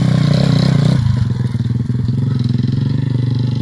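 An old 125cc dirt bike with its original fairings, out on a motocross family ride, revs loudly and steadily close by. Its throttle rises, then settles into a rapid, even buzzing drone.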